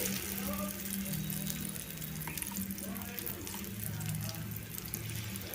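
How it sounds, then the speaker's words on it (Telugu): Ground horse gram chutney hits a hot tempering and sizzles in a continuous wet crackle, with a low steady hum running underneath and no talking. "ఈ గ్రైండ్ చేసిన ఈ ఉలవల పచ్చడిని ఈ తాలింపులో వేసేసుకోవాలి"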